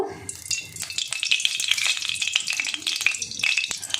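Dried red chilli and nigella seeds crackle and spit in hot oil in a kadai, a dense run of sharp pops and sizzling throughout, close and steady, while potatoes are fried for a Malabar spinach stem and prawn dish.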